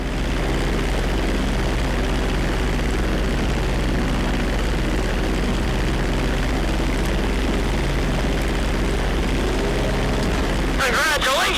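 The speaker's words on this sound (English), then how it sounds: "Hold the throttle all the way down to pick up speed, and pull back on the stick to take off." A propeller airplane in GTA 5 revs at full throttle for takeoff, a loud, steady engine drone that carries on throughout, with someone speaking over it.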